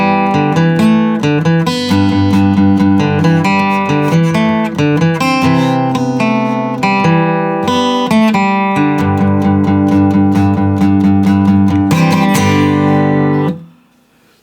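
An acoustic-style guitar in standard tuning picks the intro of a song, with rhythmic chord strums and melodic runs played up close, ringing out alone before fading to silence.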